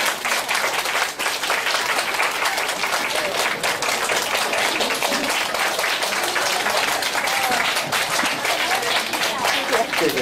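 An audience at a science event applauds continuously, a dense, sustained burst of many hands clapping at close range for the full length.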